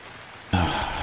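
Rain in the survival video game Raft begins abruptly midway, a sudden dense hiss of falling drops that stays loud and steady to the end with no speech over it.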